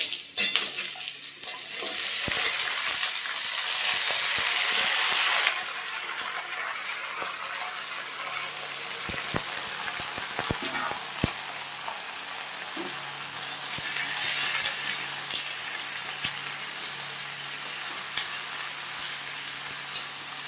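Mixed vegetables sizzling in hot oil for a Bengali dish cooked with rohu fish head, with a loud hiss at the start, then steady frying broken by sharp clinks and scrapes of stirring.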